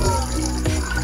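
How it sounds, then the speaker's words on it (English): Plain water, one cup, poured into a pot while making ginger tea; a steady close splashing pour runs the whole short moment. "And then put 1 cup of water"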